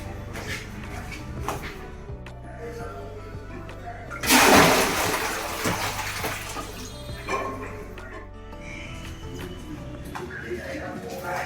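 Water splashes and runs from a tap while someone washes hands and face, a brief louder gush in the middle with household clatter around it and a person talking.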